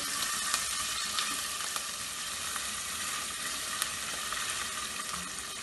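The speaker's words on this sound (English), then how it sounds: "oil, ginger garlic paste, and the green chili. Just saute them." Ginger garlic paste and green chili sauteing in a couple of tablespoons of oil for a jackfruit biryani, a steady close sizzle and crackle that runs without a break, with faint stirring clicks.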